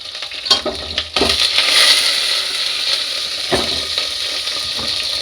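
Garlic frying in hot oil for a sambar tempering, a steady close sizzle with a few sharp clinks of a spoon against the pan, no talking.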